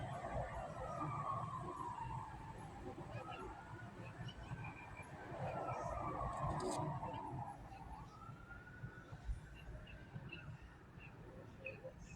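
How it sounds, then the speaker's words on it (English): A distant siren wails up and down, rising and falling slowly over steady background noise and faint bird chirps. "Let's go listen to some sirens real quick."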